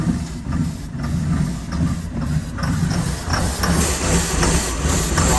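A large engine being kept running on ether after it starts, a loud low rumble that holds steady with a rough, uneven texture throughout and no talk.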